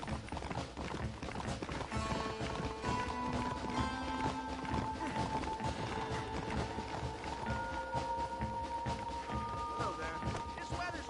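Horse galloping in the Red Dead Redemption video game, a steady clip-clop of hooves running under a busy bed of music and game sounds, with voices talking over it.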